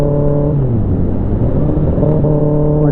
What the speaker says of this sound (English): I know how to blip it and make a rev match